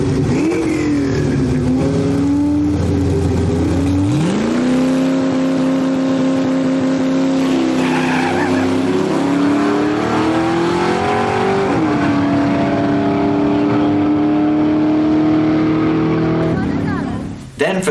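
Small-tire nitrous Chevy Nova in a no-prep drag race roars loudly, revving, shifting with rising and falling engine pitch, holding a hard, sustained pull for most of the run.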